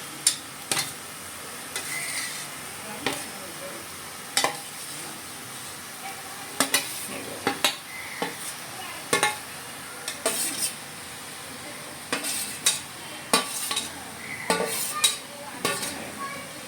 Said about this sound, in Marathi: आता आपण ॲड करूया ह्याच्यामध्ये हे मॅरिनेट केलेले माकले